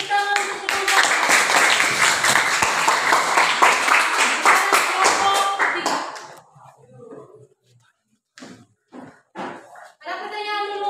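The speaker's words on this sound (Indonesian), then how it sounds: "Tepuk tangan untuk kelompok" A high school economics class applauds a student group after its presentation, giving several seconds of steady, fairly loud clapping from many hands, then a brief lull and scattered speech.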